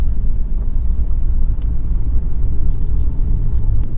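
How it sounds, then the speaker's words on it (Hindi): A manual car creeps forward in first gear as the clutch is slowly released, giving a steady low engine rumble with no talk over it. "फर्स्ट गियर में एंगेज किया, अभी मैं धीरे धीरे क्लच को रिलीज कर रहा हूँ"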